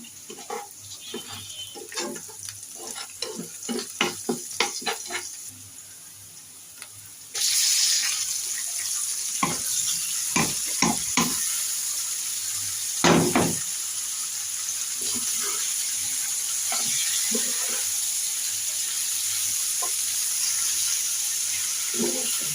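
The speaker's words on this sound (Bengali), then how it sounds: "এরপর আমি সিদ্ধ করা শাপলাগুলো দিয়ে ভালোভাবে ভেজে নিব।" Boiled water lily stems are fried with turmeric, salt and spice powder in a pan: a few faint clatters, then a loud, steady hiss of sizzling that bursts in and continues close by, with no talk.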